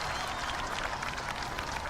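A crowd in the golf video game Tiger Woods PGA Tour 14 reacts with a steady, broad wash of murmuring and clapping-like noise, even and moderately loud throughout.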